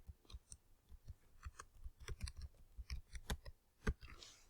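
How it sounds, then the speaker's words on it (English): Close, quiet typing on a computer keyboard comes as a steady run of light key clicks over a few seconds, with no voices. "And I'm going to type in my name."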